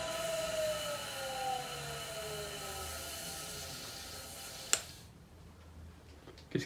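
An electric motor under increasing load whirs steadily, its pitch sliding downward as it draws over 5 amps, then cuts out abruptly with a sharp click as a fuse trips, leaving near silence.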